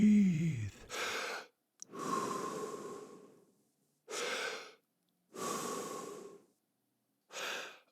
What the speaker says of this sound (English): Take a breath. Breathe, breathe, breathe.